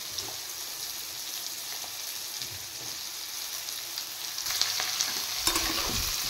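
Boiled soybean chunks and potatoes fry in a pan with a constant, fairly loud sizzle and crackle, with occasional louder bursts and scraping as they are stirred near the end.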